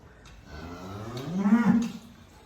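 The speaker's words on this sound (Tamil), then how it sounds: "இது ரெண்டும் பெரிய மாடு தண்ணி குடிக்குது பாருங்கள்" A cow moos in a long, low, drawn-out call that swells louder toward the end, heard against a steady outdoor background.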